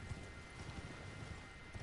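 Horse hooves clip-clop in a steady rhythmic gait in the video game Elden Ring, close and continuous but fairly quiet throughout.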